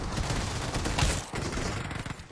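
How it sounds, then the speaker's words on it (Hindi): Rapid gunfire in the mobile battle royale game PUBG Mobile, dense overlapping bursts of shots, loud and continuous with a brief lull near the middle. "बस इसके पिछवाड़े में गोलियां भर भर के इसको मैंने नॉक कर दिया"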